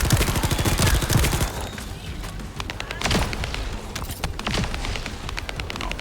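Rapid SMG fire in the shooter game The First Descendant, dense bursts of automatic shots crackling nonstop, loudest in the opening second and then carrying on steadily with scattered heavier impacts mixed in.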